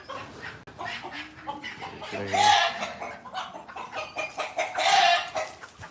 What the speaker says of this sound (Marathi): एकच कोंबडा आणि बाकी कोंबड्या